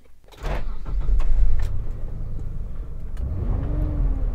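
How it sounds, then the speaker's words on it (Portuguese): A Mitsubishi Pajero Sport V6 engine starts and settles into a steady, rumbling idle close by, with a faint whine rising near the end. "Olha o som do V6"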